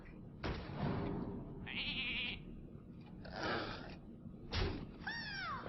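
Sheep bleats in the card game Hearthstone, a few wavering bleats rising and falling among soft game thuds and a sweeping chime, faint overall with no clear talk.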